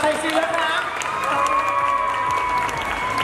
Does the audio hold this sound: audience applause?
yes